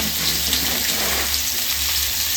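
Raw, unboiled potatoes fry in a pan with a steady, dense sizzle and crackle that stays loud and close throughout, with no voices over it.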